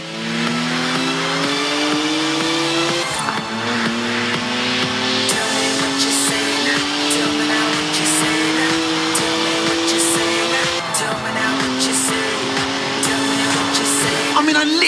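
A BMW 1M tearing along in Forza Horizon 4, its engine loud and close, revving up through gears with rising pitch sweeps, shift drops and tire squeal, no talk over it.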